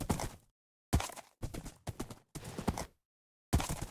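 Horse hooves clip-clop in Minecraft, a horse wearing diamond armor walking in short irregular bursts of loud, close steps separated by silent gaps.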